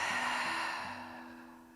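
A single deep exhale follows a breathing cue during a standing Pilates workout, a close, breathy sigh that starts strong and fades out gradually over almost two seconds.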